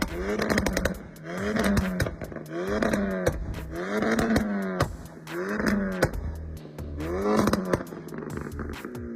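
A car with a Skyline filter, FI76 intake and full custom tune revs repeatedly, about six loud rising-and-falling blips in a steady rhythm, close up with a raspy, aggressive tone.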